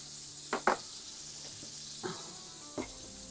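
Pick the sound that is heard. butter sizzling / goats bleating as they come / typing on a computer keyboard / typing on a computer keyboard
butter sizzling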